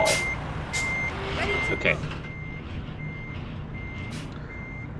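In the truck-driving game Euro Truck Simulator 2, a reversing truck beeps steadily at an even rhythm over a low engine rumble, with a short spoken word and a hiss partway through.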